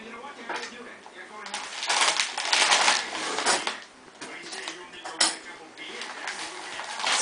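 A spoon scrapes out the inside of a carved pumpkin in repeated rough, scratchy strokes of varying loudness, close up.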